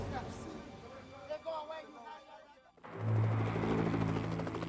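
A helicopter's loud rotor drone rises suddenly midway, at a compound during an evacuation in Somalia. Voices and background babble come first.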